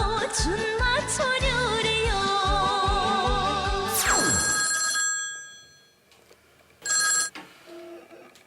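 A telephone rings with bright, trilling electronic bell tones in a loud repeating pattern, then cuts off after about five seconds. A short second burst of ringing follows near the end.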